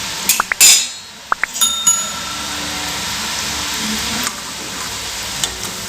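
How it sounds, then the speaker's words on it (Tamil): Murukku dough lowered into hot oil in an iron pan, with a few soft clinks of utensil against metal early on over a faint continuous sizzle, no talking. "இப்போ நம்ம புழிஞ்செடுத்த முறுக்கு மெதுவாக உள்ள சேர்த்துக்கலாம்."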